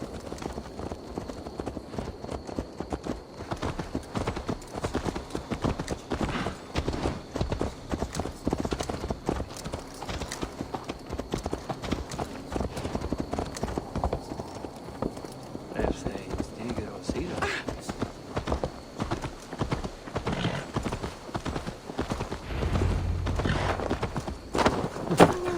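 Hooves clip-clop steadily on a horse in Assassin's Creed Valhalla, a continuous close rhythmic gait lasting throughout, with voices talking over it.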